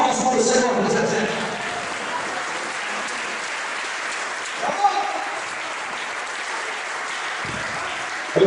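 A church congregation applauds for the Lord in a steady, dense wash of clapping that fades slightly over time, heard from within the crowd with faint voices underneath.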